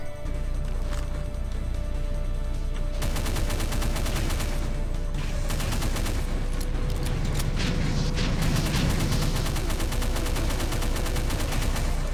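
Rapid pistol gunfire in the Break Point video game: a dense string of sharp shots over steady game ambience, loud and close, with a few heavier booms mixed in.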